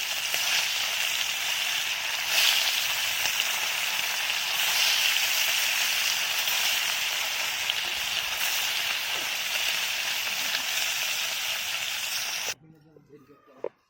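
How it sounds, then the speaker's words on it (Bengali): Small fish fry in hot oil, making a loud, continuous, close sizzle with occasional bubbling swells that stops abruptly near the end, leaving brief faint kitchen sounds. "এবার যে কটা মাছ আছে ছেড়ে দিই।"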